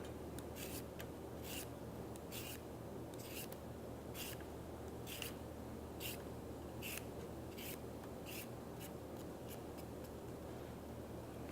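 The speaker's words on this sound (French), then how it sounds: "Éplucher les carottes." Repeated scraping strokes of a hand peeler stripping a trimmed carrot, a steady series of short rasping swipes about once a second, close and moderately quiet over a constant low background hum.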